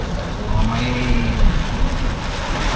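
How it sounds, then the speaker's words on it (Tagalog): Heavy rain drums steadily on a car during a stormy morning at an airport terminal drop-off, a dense continuous hiss with a low rumble and no one talking. "Ang lakas ng ulan ngayon."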